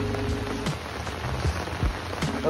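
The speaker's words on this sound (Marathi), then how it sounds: "असं भयानक इथं पाऊस पडला आमच्या इथं" Steady, heavy rain pours down continuously, a dense wash of drops pattering on surfaces with a few louder splashes and thumps along the way.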